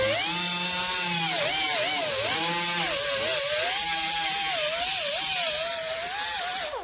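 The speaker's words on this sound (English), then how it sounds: "Next thing I'm going to do a quick grind of the outside area." An angle grinder works over rusty car body metal in a continuous loud, high whine whose pitch wavers as the disc bites and eases against the panel, steady throughout with no talk.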